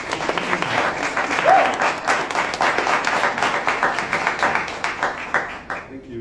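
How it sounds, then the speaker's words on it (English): Audience applause at a symposium on Japanese knotweed, dense, even clapping from a room of people that holds steady for about six seconds before quickly fading out. "Give it a big applause."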